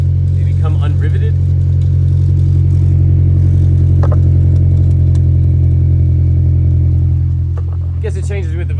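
Honda S2000 engine running steadily with an unriveted aftermarket exhaust tip, a loud continuous engine drone with a metallic rattle and clatter over it, close up.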